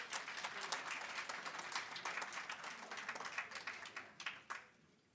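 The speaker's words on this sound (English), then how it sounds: "just assist her feet with that round of applause" A crowd at an awards ceremony applauds steadily for about five seconds, a dense, even wash of many hands clapping with no voices, easing slightly toward the end.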